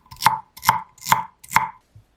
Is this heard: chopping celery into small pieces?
yes